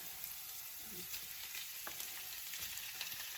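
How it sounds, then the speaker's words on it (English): Steaks and onions fry in a pan with a faint, steady sizzle and occasional soft crackles and light clinks, quiet and continuous throughout. "So I'm going to go ahead and throw in the steaks."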